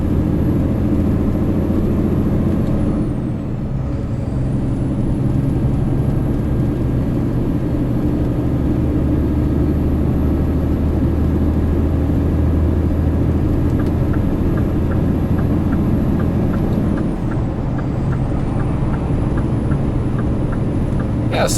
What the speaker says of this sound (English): Just to give you guys a sound of the straight 6 engine.